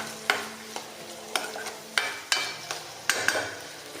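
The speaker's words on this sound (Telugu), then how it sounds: "ఆనియన్స్ చిటపటలాడతాయి" Onions frying in oil in a pan for a meal maker gravy, heard as a soft sizzle broken by sharp, evenly spaced taps and clatters of a spoon stirring nearby.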